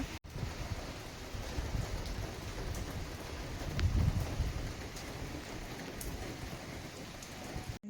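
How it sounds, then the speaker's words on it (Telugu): Steady rain pours outside, a continuous dense hiss with drops pattering on surfaces, broken only by a brief gap near the start. "బయట అయితే వర్షం పడుతుంది మీకు చినుకులు కనిపిస్తున్నాయో లేదో"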